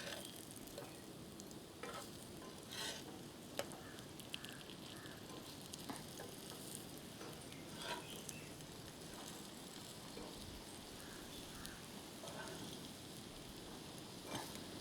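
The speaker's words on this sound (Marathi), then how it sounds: "खालच्या बाजूला देखील थोडंसं तूप सोडूया, म्हणजे ह्या दोन्ही बाजूनी छान खरपूस टिक्क्या भाजल्या जातील" Sweet potato cutlets (tikki) fry in ghee in a pan, with a steady close sizzle and crackle running on alone throughout, dotted with small pops and spatters.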